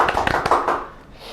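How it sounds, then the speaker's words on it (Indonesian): Brief scattered hand clapping from a small audience at a podcast recording, a quick patter of claps that fades within about a second. "Boleh tepuk tangannya nih"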